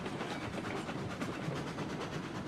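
A train rolls steadily in the Railroads Online video game, a continuous rumbling, hissing wash of wheel and engine noise with a faint rhythmic pulse, loud and unbroken throughout.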